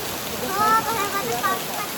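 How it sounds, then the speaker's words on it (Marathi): Heavy rain pours steadily and close by during a flood-level downpour, a dense continuous wash that stays constant for the whole stretch, with faint birdlike chirps in the background and no talk. "सणा सणा पाऊस पडतंय."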